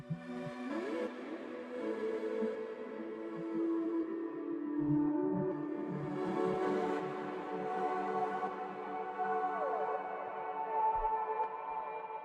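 Pulsing, airy synth sound with reverb: layered tonal notes that swell and pulse softly, with gliding pitches and a wash of reverb, fairly quiet and with no voices.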